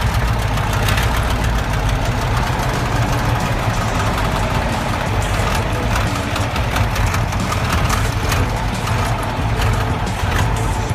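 Truck engine revved hard while the clutch is not fully released, a loud, steady low-pitched roar with knocking texture that holds for the whole stretch without pause.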